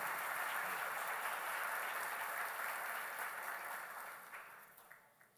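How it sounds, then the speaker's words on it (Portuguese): Applause from a church congregation thanking two helpers during a sermon, dense steady clapping that holds for several seconds, then thins out and fades toward the end. "Palmas para o Ur e para o Arão aqui."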